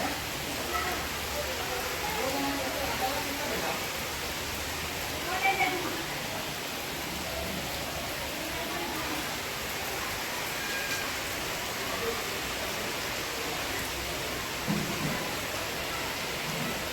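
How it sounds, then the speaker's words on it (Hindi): Very heavy rain pours outdoors beside a colony road under construction, a steady, dense hiss of falling water with faint thunder-like rumbles and no clear talk. "दोस्तों बहुत तेज़ बारिश शुरू हो गई है, और इतनी तेज़ बारिश हो रही है"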